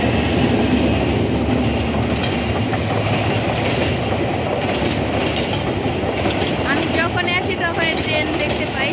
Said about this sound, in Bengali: দেখো এদিকে ট্রেন যাচ্ছে।